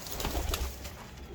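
Pigeons of an old, long-kept breed cooing close by: a short run of soft, throaty coos over a low murmur, with no talking.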